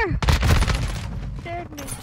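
Friendly gunfire in a shooter video game, a quick burst of rapid overlapping shots at close range. It is followed by lingering tonal game effects, and a voice may be talking over it.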